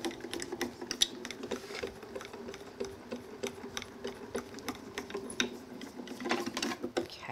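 A die cutting machine draws a sheet of card through its rollers, a soft, steady mechanical whirr with faint rhythmic clicks, fairly quiet and close, with no one talking.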